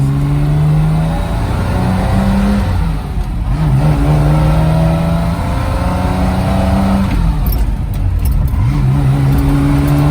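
A 1961 Aston Martin DB4 Series III with a straight-six engine revs loudly up and down, its rising and falling drone heard close, with a brief dip between pulls and no talking.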